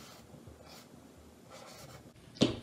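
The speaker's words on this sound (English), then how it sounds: "I'm gonna go ahead and trace this orange." A pen scratches steadily across paper while tracing around an orange, a soft, close scraping that rises and falls in strokes and ends with a sharper knock or tap.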